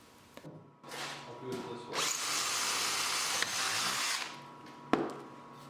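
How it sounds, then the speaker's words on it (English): A power drill boring a hole through a wooden piece for threading a scroll saw blade, a steady loud whirring grind lasting about two seconds, with handling knocks and a sharp click around it. "I drilled a hole in it."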